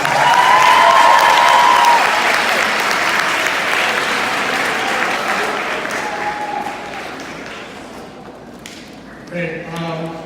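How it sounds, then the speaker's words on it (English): Applause from an audience at a school sports awards ceremony, loud and sustained at first, then slowly tapering off, with a brief spoken voice near the end. "So they deserve another round of applause for that."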